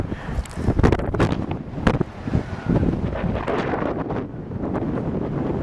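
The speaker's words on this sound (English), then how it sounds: "Windy and breezy cold, just like Glacier Pass." Strong, gusty cold wind at a mountain pass in the Eagle Cap buffets the microphone in uneven bursts, roaring loudly then easing to a steady rush, with no voices.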